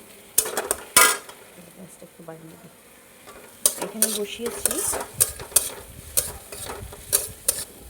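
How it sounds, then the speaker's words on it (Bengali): Onions frying with spices in a pan while a lote fish curry is prepared, with loud clinks and scrapes of a utensil stirring against the pan over a faint sizzle, and someone speaking briefly. "পেঁয়াজ ভাজা চলছে"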